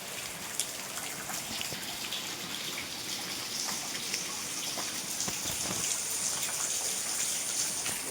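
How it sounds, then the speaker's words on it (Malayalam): Steady rainfall on a rainy day, a dense even hiss of drops hitting surfaces with occasional louder splatters, constant throughout and without speech. "അത് മഴയുണ്ട്."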